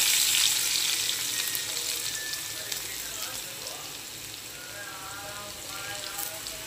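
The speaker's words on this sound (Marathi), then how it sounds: "यामध्ये ठेचून घेतलेला लसूण ॲड करू।" Crushed garlic frying in hot oil with cumin and mustard seeds for a soybean curry, giving a steady close crackling sizzle that eases slightly over time and plays alone.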